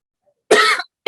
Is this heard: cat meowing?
no